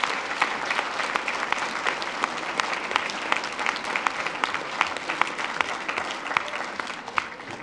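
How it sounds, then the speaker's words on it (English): A school board meeting audience applauds South Jordan Middle School supporters, parents, faculty and staff, with steady sustained clapping filling the room throughout, dense and even with no talk over it. "will you please stand and let us applaud you"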